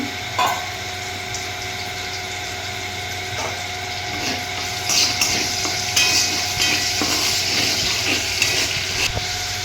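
Dried red chilies, bay leaf and green chili tempering in hot oil for a soybean and potato curry, a steady close sizzle with faint stirring clicks, alone with no talk.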